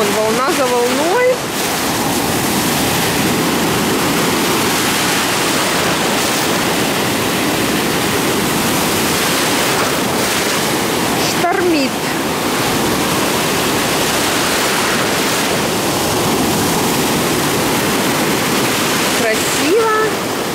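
Stormy ocean surf washes onto a beach as a steady roaring rush, loud and close, while a voice speaks briefly now and then over it.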